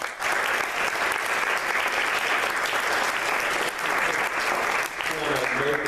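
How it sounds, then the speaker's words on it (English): Sustained applause from an audience at a scholar-in-residence program in a synagogue, dense and steady for about six seconds, with a voice starting to speak near the end. "We give a round of applause."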